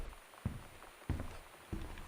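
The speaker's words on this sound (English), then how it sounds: "It sounded like footsteps." Three quiet, evenly spaced footsteps sound in the video game Gone Home, soft thuds over faint rain, with no one speaking.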